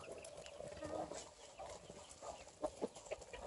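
Free-range chickens cluck and a rooster calls while being fed wheat on a farm in Çağlarca, Antalya, with scattered clucks, short sharp peaks near the end, and faint talk in the background.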